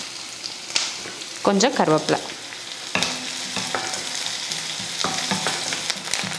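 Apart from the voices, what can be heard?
sautéing onion with mustard seeds and dried red chillies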